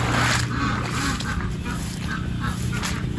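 Ducks quacking on a homestead during heavy rain, repeated nasal calls at moderate distance over a constant wet background wash.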